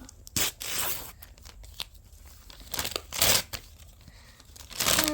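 A toy package is torn and pulled open up close, with bursts of ripping and crinkling plastic and paper separated by brief pauses.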